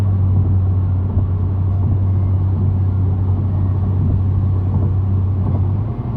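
A 2022 Genesis G70 Launch Edition is driven on the highway, and a steady, deep engine and road drone fills the cabin evenly from start to finish without any voices.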